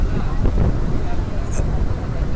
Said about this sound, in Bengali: বাতাসের বেগে বেগ পেয়েছে, কলা গাছগুলি নড়ছে, দেখতে পাচ্ছেন অসংখ্য বাতাসের বেগ